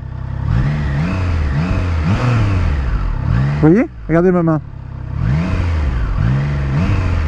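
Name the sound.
motorcycle engine revving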